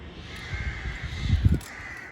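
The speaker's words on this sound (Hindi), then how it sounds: "दिन में कौवे बोलते हैं" Crows caw several times at a moderate distance, harsh calls clustering toward the middle and end over a steady outdoor background hum.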